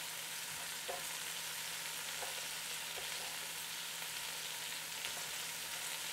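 Beef pieces sear in a Ninja Foodi pressure cooker with a continuous soft sizzle and crackle, broken by a few light taps as the pieces are turned, steady and moderately quiet with no talking.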